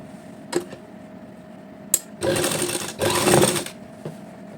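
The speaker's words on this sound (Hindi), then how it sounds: "दोनों को हल्का हल्का ऐसे दबा लेंगे और पूरी सिलाई लगा लेंगे वहाँ तक, जहाँ तक हमने निशान लगाया था ना" Domestic sewing machine stitching salwar fabric, close and fairly loud: a few quick clicks and two short bursts of running stitches, each about a second long, in a quiet room.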